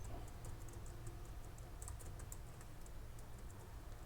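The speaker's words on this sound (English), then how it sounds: "I'm typing something like testing." Typing on a computer keyboard, a steady run of quick light clicks and taps going on throughout, fairly faint against a low background hum with no voices.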